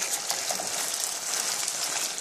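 Onions and chili are stir-fried in a pan, giving a continuous bright hiss of sizzling with faint scraping, moderately quiet and without talk.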